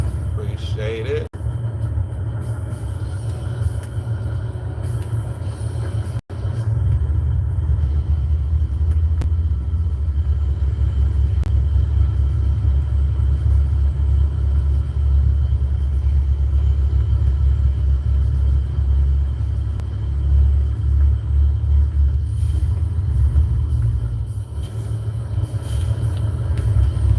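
A Peterbilt truck's engine idles with a deep, continuous low rumble close by, steady throughout with a brief dropout, while a person speaks over it.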